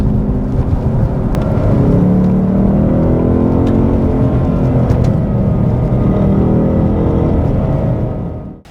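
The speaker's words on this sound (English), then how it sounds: "And here it is, my 1994 EF XR8." A 1994 Ford EF XR8 V8 engine runs loudly and close, a steady throbbing rumble with shifting pitch as the revs rise and fall, fading out at the very end with no talk.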